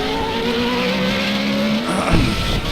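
Formula Renault 3.5 race car in a racing video game pulling out of the pits at Road America, a steady engine drone that rises in pitch and snaps up sharply near the end as it accelerates away, with no talk.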